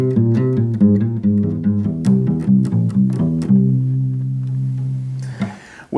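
Bass guitar plays a C dominant seventh augmented fifth arpeggio, a steady run of single plucked notes stepping up and down before one low note is held and fades, ending in a brief rustle.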